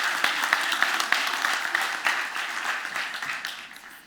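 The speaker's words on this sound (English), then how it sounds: "Let's give a big round of applause." An audience at a STEAM education pitching session applauds after a presentation, a dense, steady patter of many hands clapping that fades slightly toward the end.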